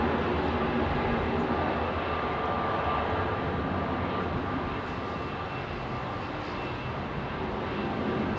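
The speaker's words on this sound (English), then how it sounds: "this jumbo is probably going to go up very quick" A Cathay Cargo Boeing 747-8 freighter departs Heathrow into a stiff headwind, its broad jet roar filling the air as a steady, loud rumble that slowly eases, with no voices.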